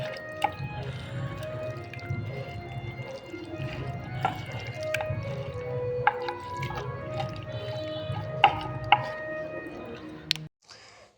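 Hands squish and knead chicken pieces in a salt and soy sauce marinade, making close, wet, sticky squelches and drips at a gentle, uneven pace that stops abruptly near the end.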